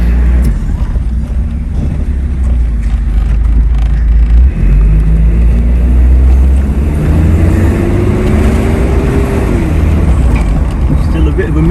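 Isuzu Piazza turbo car driving with a slight engine miss, a steady loud drone of engine and road noise inside the cabin, with a rising engine note toward the end.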